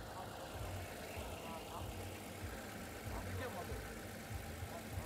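A Lexus 350 engine idling, a low steady rumble with a faint uneven pulse, heard softly in the background.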